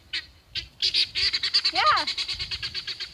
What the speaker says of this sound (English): Rooster just chased the guinea away for me.